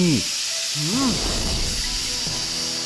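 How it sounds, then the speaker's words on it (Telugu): A cartoon pressure cooker of rice lets off a steady, loud hiss of escaping steam after the gas is switched off, with brief rising and falling voice-like tones over it; no clear whistle stands out. "ఆఫ్ చేసిన తర్వాత కూడా కుక్కర్ నుంచి విసులు వస్తుంది."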